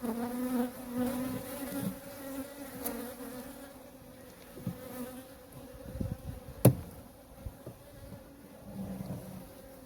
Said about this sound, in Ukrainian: Ну і там трошки вже бджоли на слідуючій рамці.